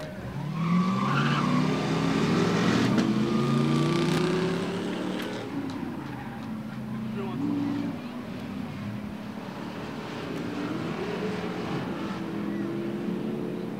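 At a Rockford Speedway spectator drag night, a Corvette and a Dodge Ram 1500 launch and race down the strip, their engines roaring and rising in pitch, with tire noise and an announcer talking over the loud run.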